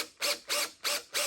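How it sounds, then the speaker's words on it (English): Tap threading 1/4-20 holes drilled with a number 7 bit into a sewing machine table mount, giving four evenly spaced, close ratcheting clicks of a tap handle turning in metal. "now I got to tap it with 1/4-20"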